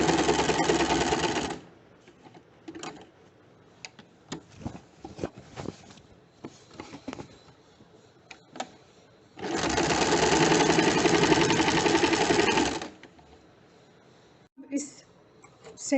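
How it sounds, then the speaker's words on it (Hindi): A sewing machine stitches a V-shaped seam at a flat round collar neckline, two loud close bursts of fast even stitching separated by quieter handling noises and brief pauses. "ये हम वी शेप की स्टिचिंग कर लेते हैं।"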